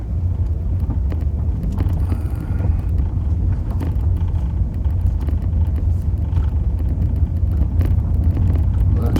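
A VW Golf Mk4 with a 1.4 engine drives along, heard from inside as a steady low road and engine rumble mixed with wind noise, with no clear gear changes or revving.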